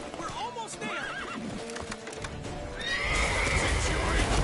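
A horse neighs and whinnies repeatedly in The Witcher 3: Wild Hunt on PS5 over clip-clopping hooves. Game dialogue plays over it, and a louder rush of action noise swells near the end.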